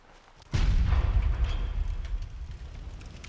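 In the video game Bloodborne, a single loud cannon blast booms suddenly, followed by a deep rumbling roll that slowly fades.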